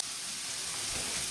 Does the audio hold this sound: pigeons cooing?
no